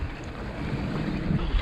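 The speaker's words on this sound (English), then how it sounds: "Just a couple of minutes with wind gusts up to 30 knots, and now it seems to die down again." Strong wind gusts up to 30 knots roar steadily across a sailboat under way off the Florida Keys, a loud continuous rush with buffeting against the microphone and water noise beneath.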